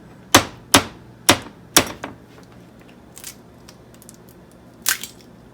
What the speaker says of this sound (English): We're going to crack it and put it in a separate bowl or mug.